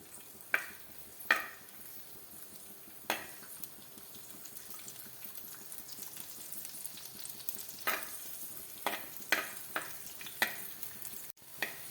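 Ginger, green chilli and garlic frying gently in a pan for a mango curry, a faint continuous sizzle with a few sharp spoon clinks and scrapes scattered throughout, close by and without talk.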